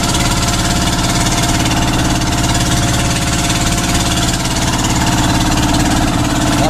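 A fishing boat motor on a tuna fishing trip runs loud and close, a constant heavy chugging drone with no change in pace and no talk.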